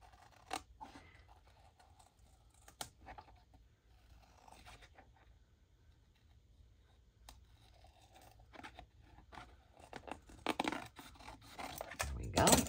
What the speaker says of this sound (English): I'm going to go ahead and cut around this.